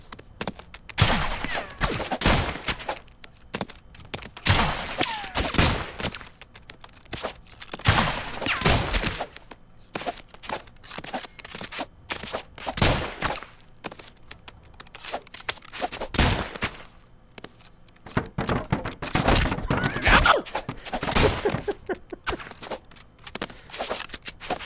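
Rapid bursts of gunfire from the cartoon shooter game Rounds, in a 1v1 match, come in repeated volleys with short gaps, loud and close, with no talk over them.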